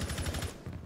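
Gunfire in Rainbow Six Siege: a short, rapid burst of about seven or eight automatic shots in even rhythm, then a brief pause and a further shot or two, heard at moderate level with no talk.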